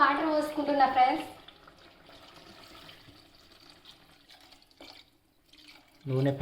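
Water poured into a pan of country chicken curry on the stove, a faint trickling and splashing between stretches of someone talking near the start and end.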